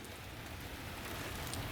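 Steady rain falling outside, a dense, even hiss of drops on surfaces that continues without a break.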